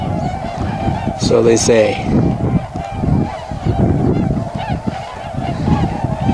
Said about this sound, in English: There's a lot of swans here, and they're still a week early